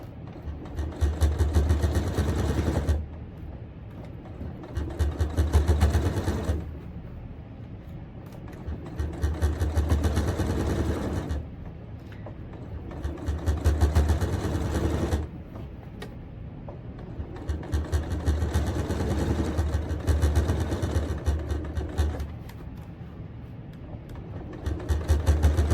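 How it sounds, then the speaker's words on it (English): Domestic sewing machine top stitching a fabric tote, its motor whirring in several bursts of a few seconds each with quieter pauses between, close and steady. "let's start top stitching"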